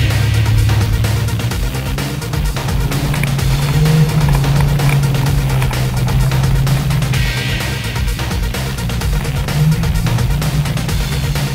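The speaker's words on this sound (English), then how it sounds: "This is how we drive cars in my backyard." A car driven around a backyard, its engine droning loudly and continuously with slight revving swells and rough, gravelly texture, close by and with no speech over it.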